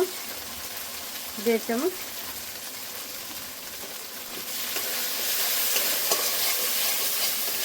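Ground spices, turmeric and chili powder, fry in a pan for a Bengali egg and masoor dal kofta curry. A soft, steady sizzle builds and grows brighter toward the end, with a brief voice near the start.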